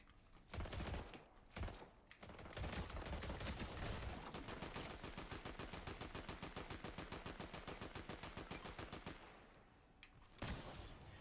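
Rapid, heavy gunfire from a shotgun in the video game Fortnite, a long sustained burst of repeated loud shots with a few separate blasts before and after, no talking.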